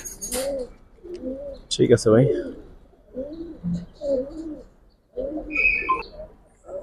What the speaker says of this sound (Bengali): কবুতর, টপ কোয়ালিটি কবুতর।